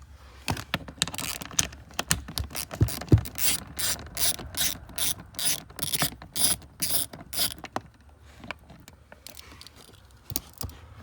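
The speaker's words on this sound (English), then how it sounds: "there is a third 10mm bolt that is required to be taken off before dropping the panel" A ratchet turns out a 10mm bolt from the dash panel of a Lexus GX470, close-up rapid clicking in uneven bursts of strokes that fade toward the end, with no speech.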